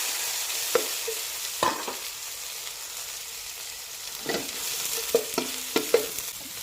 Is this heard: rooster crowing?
no